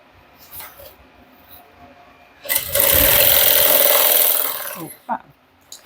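A sewing machine stitches a bag in a fast, loud burst of about two seconds, with quiet handling noises before and after.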